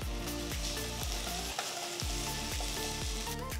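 Onions sizzling and frying in a pan as ginger garlic paste is stirred in for an aloo chicken curry, a steady loud hiss broken by regular scraping stirs roughly every half second.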